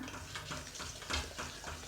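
A spoon scrapes and stirs a thick chocolate mixture in a bowl, with repeated soft swishing strokes in a steady rhythm, close up.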